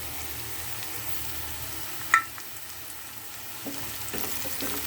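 Bitter gourd sizzles quietly in a pan in a soft, continuous frying hiss, broken by a single sharp clink near the middle and light stirring scrapes toward the end.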